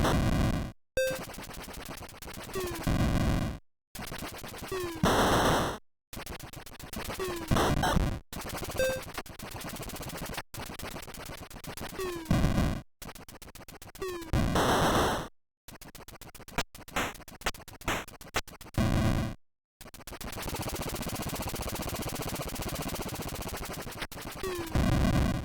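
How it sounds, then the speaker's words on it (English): Video game chain explosions in a retro-style shooter, dense crackling blasts and harsh bursts that stop and start abruptly, loud and continuous with no talk. "decent little chain explosions"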